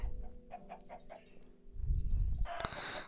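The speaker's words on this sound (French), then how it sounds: "Ah, des poulets." Chickens in a Minecraft-style survival game cluck in a series of short, close clucks, followed by a louder rustling and a sudden bright burst at the end.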